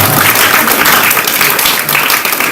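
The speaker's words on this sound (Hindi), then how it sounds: "जोरदार तालियां हो जाए।" Loud, dense applause fills the hall at a junior quiz competition, a steady wash of many hands clapping together without a break.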